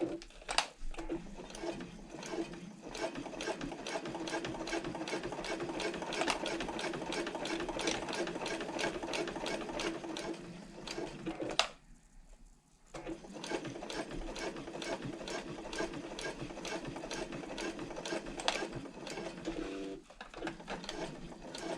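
A sewing machine stitches a handbag panel, running in a steady rapid needle rhythm for about eleven seconds, pausing briefly, then resuming at the same even pace; fairly quiet and close, with no talking.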